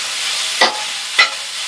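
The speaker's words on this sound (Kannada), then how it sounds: "ಮತ್ತೆ 1 ರಿಂದ 2 ನಿಮಿಷ ಈರುಳ್ಳಿನ ಈ ಎಣ್ಣೆ ಜೊತೆನಲ್ಲೇ ಫ್ರೈ ಮಾಡ್ಕೊಳ್ಳೋಣ" Onions and curry leaves fry in oil in a pan for a mushroom pepper fry, with a soft steady sizzle broken by two sharp stirring scrapes, close and with no voices.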